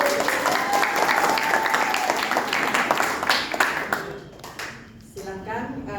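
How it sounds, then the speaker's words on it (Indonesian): Meeting attendees applaud together, a dense burst of clapping filling the room for about four seconds before fading as voices take over. "tepuk tangan dulu"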